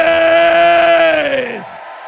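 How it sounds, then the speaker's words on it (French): A church congregation at a Haitian prayer service shouts together in one loud, sustained cry that holds steady and then falls away after about a second and a half. "Criez Jésus!"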